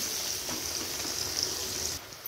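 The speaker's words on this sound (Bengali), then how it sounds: "পেঁয়াজ লঙ্কাগুলো দিয়ে দিয়েছি, এবার একটু ভাজা ভাজা করে নেব।" Sliced onions and green chilies frying in hot oil in a pan, a steady bright sizzle and crackle that runs continuously, fairly close, with faint stirring and no talk.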